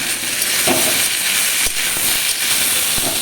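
Food sizzles and hisses steadily in a hot pan on a home stove while being stirred, with a few soft scraping knocks, close and loud, no talking.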